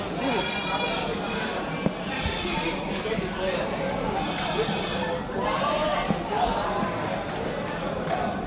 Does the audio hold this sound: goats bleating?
yes